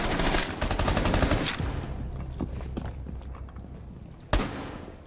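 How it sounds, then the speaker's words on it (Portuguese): Gunfire in the video game Rainbow Six Siege: a fast burst of rapid shots, a pause, then a second burst and one sharp later shot, loud and close. "Eu atirei dos dois lados do cara. Eu fiz um burst de um lado depois do outro."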